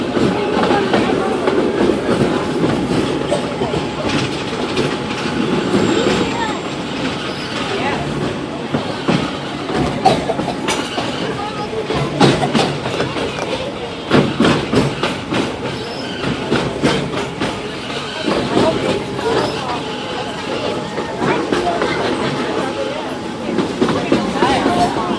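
Train ride around Magic Kingdom at Walt Disney World: loud, continuous rumble of rolling railcars with rhythmic clickety-clack and occasional wheel squeal, close and steady, with voices talking over it.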